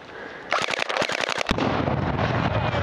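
Rapid automatic gunfire in the video game Ace Combat, a quick burst of about a dozen sharp shots followed by a heavy blast that fades into a lingering rumbling roar, loud and close.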